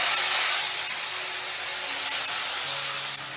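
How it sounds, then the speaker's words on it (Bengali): Ground spice paste dropped into hot tempering in a pan, a loud continuous hiss and sizzle that slowly eases off, close and without voices. "ফোড়নটা নাড়াচাড়া করে নিয়ে দিয়ে দিচ্ছি বাটা মশলা।"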